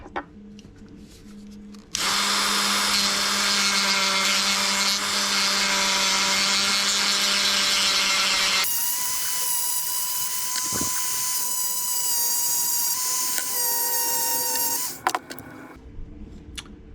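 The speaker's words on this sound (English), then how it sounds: "So we've done copious amounts of dremeling" A Dremel rotary tool with a polishing pad sands plastic on a Hobao Hyper MT Sport RC truck's steering parts. It starts with a loud sustained whine that shifts pitch partway through, then stops, with quiet handling before and after.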